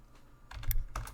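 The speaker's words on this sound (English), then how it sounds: "I'm bad at typing here." Keys clatter on a computer keyboard in a short burst of quick, uneven taps, close and fairly quiet, with no voices.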